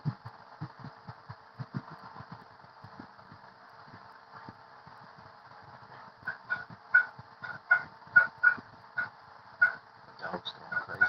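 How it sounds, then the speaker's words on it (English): Dog barking excitedly somewhere indoors, a series of sharp, fairly faint barks that quicken and grow louder toward the end, over a low background hum. "Dog's going crazy"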